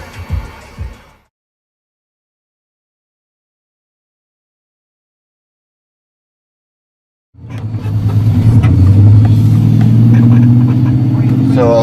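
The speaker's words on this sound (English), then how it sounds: "So I'm just lightly accelerating right now." A cammed 6.2L truck lightly accelerates along a town road, its engine a steady, loud rumble rising after a brief burst of sound and a long stretch of silence.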